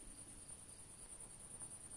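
A high, continuous insect chirring holds steady throughout, thin and even, over a faint low background hush.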